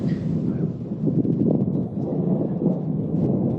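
Thunder from an approaching storm over farmland rolls as a deep, continuous rumble that stays loud and steady for several seconds, with no talking.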